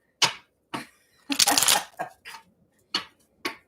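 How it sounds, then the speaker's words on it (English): Several brisk, riffling bursts of tarot card shuffling, close up, with short pauses between them and one longer flurry in the middle. "wanted to shuffle the cards themselves"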